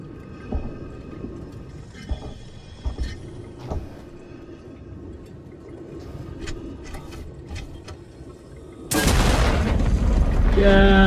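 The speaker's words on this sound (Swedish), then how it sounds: "There's a fissure in the rock. Stand back. I'm gonna blow it." Scattered thuds and clatter give way to a sudden loud blast that keeps roaring and crackling to the end, as a rock fissure is blown up in the video game Alien: Isolation.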